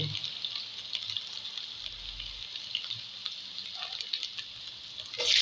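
Chopped ginger sizzles in a pan of hot oil with bay leaf, a continuous bright frying hiss that stays steady and close, with a louder burst of sizzling right at the end.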